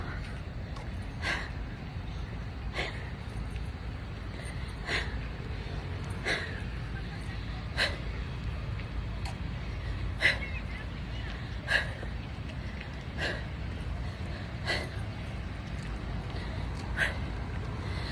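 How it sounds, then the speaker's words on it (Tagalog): Heavy breathing after running laps around a school oval, a steady huffing rhythm of sharp breaths repeating every second or so close to the microphone over low background hum. "Hingal na ako."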